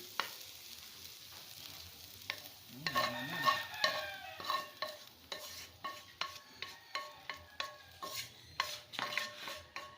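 Vegetables stirred and sautéed in a wok for a Bicol-style pinakbet, with soft sizzling under a rhythmic series of sharp spatula scrapes and clinks against the metal, steady and close.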